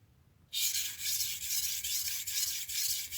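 Knife sharpening with steady grinding strokes, a loud continuous hiss of steel on abrasive that starts abruptly after a brief quiet moment and holds with slight pulsing, close by and without talk.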